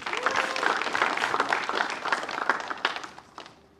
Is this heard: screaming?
no